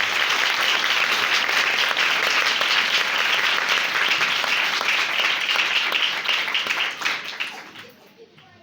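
Sustained applause from a church congregation at a Good Friday service, a dense steady roar of clapping that carries on for several seconds before thinning out and fading near the end.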